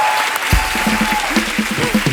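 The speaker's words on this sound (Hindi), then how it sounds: "एक बार जोरदार ताली हो जाए।" Studio audience on a television comedy talk show bursts into loud, dense clapping after a short pause, sustained and close for about two seconds.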